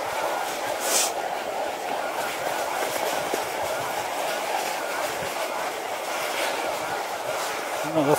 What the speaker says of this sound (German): Zug.